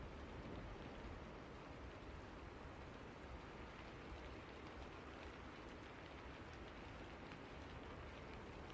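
A steady, dense wash of heavy rain and wind fills a stormy ambience behind a Vampire: The Masquerade tabletop session, a constant roar with no breaks and no voices.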